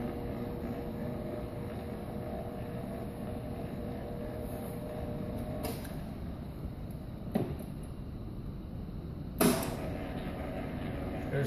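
A Hobart H600 60-quart stand mixer runs in second gear, a steady low mechanical drone with a few sharp creaks and clicks breaking through near the end.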